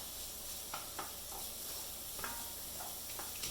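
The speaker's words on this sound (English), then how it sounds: "Give that a stir." A spoon stirs garlic through vegan bean chili in a pot, giving soft scraping strokes and light clicks at an irregular pace over a faint, quiet sizzle.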